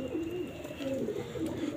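Pigeons in a backyard loft colony coo steadily, a low rounded warbling repeated in overlapping phrases, close and moderately loud with no talk.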